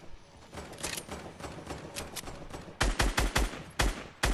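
Rapid gunfire in the Fortnite Battle Royale video game, a run of quick shots followed by several louder, sharper bursts in close succession.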